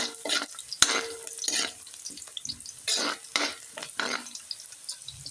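Native chicken sizzling and being stirred in a hot pan before coconut milk is added, with scraping utensil strokes in uneven bursts and a sharp clink, close by.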